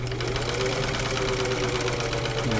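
A vintage Pfaff 30 straight stitch sewing machine runs steadily, a continuous close motor whir and needle hum with no pauses and no talk, as if stitching freehand.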